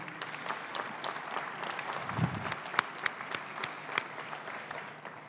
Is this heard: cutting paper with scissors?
no